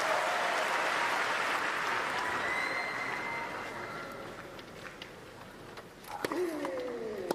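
Applause and crowd noise at a wheelchair tennis match, a steady wash of clapping that is loudest at the start and gently fades, with a few whistle-like tones and a sharp late burst near the end.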